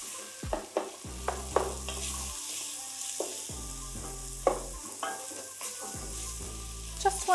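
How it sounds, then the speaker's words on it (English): Vegetables are sautéed over high heat under constant stirring, a soft continuous sizzle broken by scraping strokes and a few light clicks of a utensil on the pan, alongside a steady low hum. "Just want to cook these down so they're translucent, so about a minute, and keep stirring, and it is on high heat"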